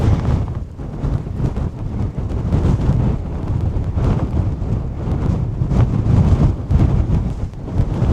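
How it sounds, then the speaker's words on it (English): Strong, steady wind roars across the exposed hilltop of Kinder Scout, buffeting the microphone with continuous low rumbling gusts for the whole stretch, loud and unbroken with no voices. "Oh my god, the wind is really strong."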